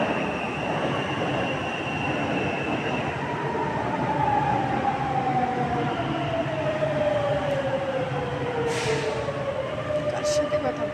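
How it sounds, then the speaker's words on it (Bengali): A metro train running, with a continuous rumbling roll and a slowly falling whine of wheels and motors, close and steady throughout, under a voice talking. "ট্রেন এসে গেছে, মেট্রো এসে গেছে।"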